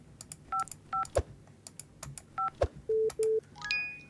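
Phone in the office video game Office Simulator: a sequence of short paired-tone dial beeps, then two longer single tones and a rising ring-like chime, interspersed with light clicks, all fairly quiet with no talk.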